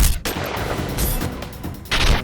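A gunshot sound effect in a crime drama: a sharp, loud report at the start, then a burst of crackling noise, and another loud blast near the end.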